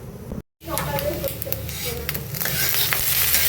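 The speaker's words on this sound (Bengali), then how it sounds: "এখানে এখন ভাত ভাজি করতেছি" Leftover rice frying in a pan, a moderate sizzle with stirring scrapes after a brief silent gap, growing slightly louder toward the end, with some background voice mixed in.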